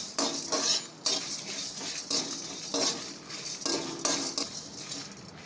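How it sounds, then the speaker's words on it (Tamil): Repeated scraping and rattling as dry spices, including pepper, are roasted without oil and stirred around a metal pan, a rhythmic shuffling with light clinks, close up. "நான் எண்ணெயே ஊற்றல, வெறும் வானலில் தான் வறுக்கிறோம்."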